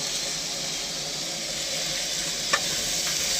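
Egg thokku sizzles and fries in a pan while being stirred, a steady close hiss with occasional soft scraping and a small clink near the end.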